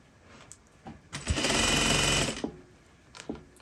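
A sewing machine stitches at a 2.5 stitch length while sewing pants, one steady burst of about a second near the middle with quieter handling clicks before and after.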